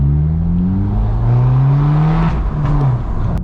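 A BMW 1 Series accelerates down a country road, its engine note rising and falling through the gears, followed by crackling exhaust pops and bangs as the revs drop.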